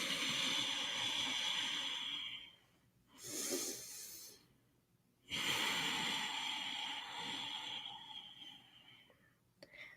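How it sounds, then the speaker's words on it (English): Slow ujjayi ocean breaths during a calming breathwork practice, each a long airy throat-constricted hiss lasting a few seconds, separated by brief quiet pauses, close and steady. "you can continue this ujjayi breath or ocean's breath, focusing on the sound it's making"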